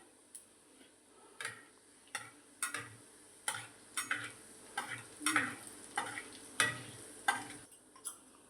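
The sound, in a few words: cumin seeds sizzling in hot oil while stirring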